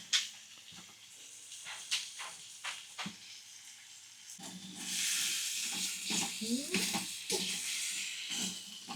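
Meat sizzles in titanium camping cookware over a camp stove, starting as scattered crackles and pops, then swelling into a loud, continuous hiss with sharp spits.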